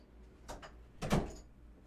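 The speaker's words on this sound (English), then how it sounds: "Let me close the door" A house door is pushed shut indoors, a soft movement followed by one firm thud, close by with no talking.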